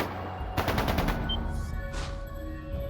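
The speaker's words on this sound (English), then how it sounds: "That sounded like gunfire." A rapid burst of automatic gunfire in the video game Trails of Cold Steel 2, about half a dozen quick cracks, followed by a couple of whooshing sweeps over a low electronic hum.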